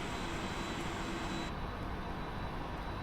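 Jet engines of a PMDG 747-400F Atlas Air freighter run at idle in the Prepar3D simulator, a steady, even broadband roar with a faint whine that does not change throughout.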